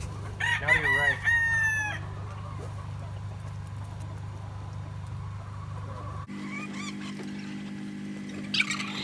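A rooster crows loudly and close at the start of a backyard chicken flock, with other fowl calls and a goose-like honk following over a steady low hum and outdoor noise.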